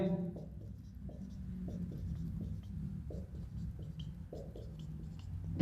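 Numbers are written on a board in a quiet room, making a series of short, rhythmic scratching strokes close by, with faint background hum.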